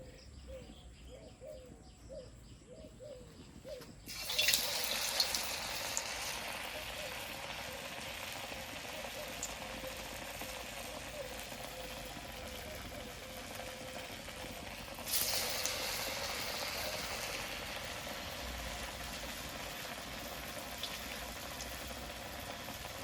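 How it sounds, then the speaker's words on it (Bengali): Sago and potato fritters slipped one by one into very hot oil set off a sudden burst of sizzling that settles into a steady hiss, then surges again as another goes in; faint birdsong sounds before the frying starts. "তো এখন আমি একটা একটা করে সাবুর বড়াগুলো তেলের মধ্যে ছেড়ে দেবো।"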